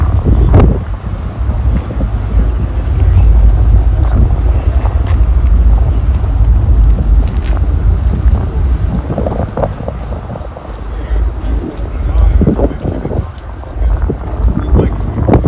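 Chilly outdoor wind blows steadily into the microphone, making a heavy low rumble with gusty surges and buffeting throughout, and a voice speaks briefly.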